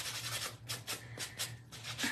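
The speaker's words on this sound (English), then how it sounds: "sanding it makes it look a whole lot better." Sandpaper rubs against a craft pumpkin in quick back-and-forth strokes, a soft, close, rhythmic scratching that repeats about a dozen times with no voices.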